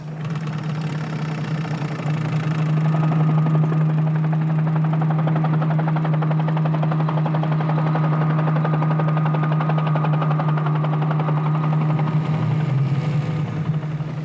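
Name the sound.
helicopter flying in aerial reconnaissance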